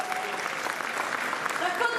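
An audience at a Rallylegend gathering gives an author warm, continuous applause, a close, even patter of many hands with no break across the moment.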